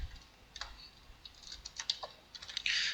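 A computer keyboard is typed on in irregular bursts of crisp clicks during a programming lecture, ending in a louder cluster of keystrokes. There is no talking.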